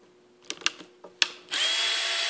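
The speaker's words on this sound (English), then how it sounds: "flip it and use Phillips, just like that, to remove these screws." Screws being removed with a Phillips screwdriver from a motor during a 220V to 110V conversion, a few close clicks and taps, then a sudden loud steady whirring hiss that continues to the end.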